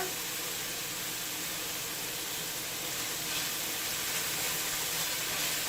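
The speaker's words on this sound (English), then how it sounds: "it's really sizzly, turn it down because we only want to saute them and make them translucent" Onions and garlic sizzle steadily while sautéing in a pan, a continuous dense hiss with no pauses, no voices and no change in level throughout.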